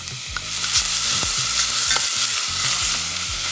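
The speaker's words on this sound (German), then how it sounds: "Wir nehmen Zwiebeln und Paprika und die kommen als erstes in den Topf und werden 1 bis 2 Minuten lang angeschwitzt" Onions and bell peppers sizzle in rapeseed oil in a pot, a steady loud frying hiss broken by repeated scraping stirs, with no voices.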